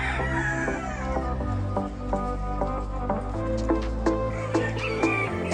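Young fighting roosters, stags kept for cockfighting, crow and cluck repeatedly close by, their calls overlapping in a busy, loud chorus.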